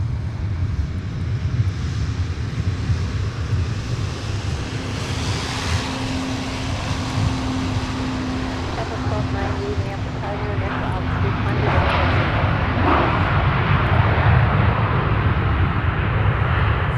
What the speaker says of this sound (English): So departure is imminent on our Gridiron Air 777.